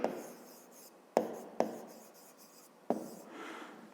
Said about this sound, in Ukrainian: Так і записуємо.